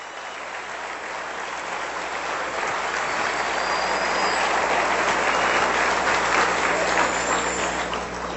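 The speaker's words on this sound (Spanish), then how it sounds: "Le voy a dar un aplauso al Señor todavía" Church congregation clapping together, a broad, even wash of applause that swells gradually and stays strong throughout, with no voices standing out.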